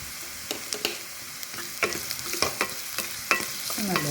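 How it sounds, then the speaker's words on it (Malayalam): Onion, ginger-garlic paste and green chilli sautéing in a pan, a continuous frying sizzle punctuated by a series of irregular spatula scrapes and taps, close and alone without speech. "നല്ലപോലെ വഴറ്റാം."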